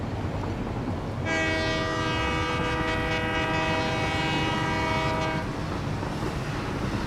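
A train horn from a railroad video game blows one long, steady chord of several stacked tones for about four seconds, loud and close, over a constant rumbling background, then cuts off.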